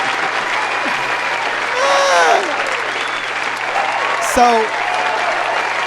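Clapping during a music business podcast, a steady wash of applause with a voice briefly speaking over it and a low hum beneath.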